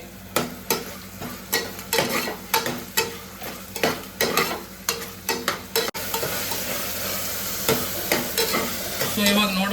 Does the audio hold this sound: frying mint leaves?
yes